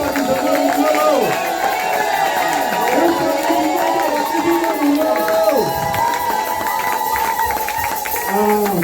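A church congregation shouts and cheers with joy, a dense, loud swell of many overlapping voices crying out together, sustained throughout with rising and falling calls.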